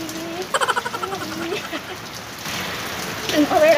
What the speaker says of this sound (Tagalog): Tapos naman po ako maligo ng ulan.